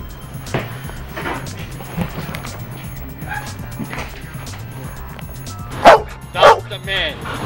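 A police dog barks in sharp, loud bursts during bite training with a Malinois, the barks and yips spaced unevenly over a low background hum, with a few louder barks close together near the end.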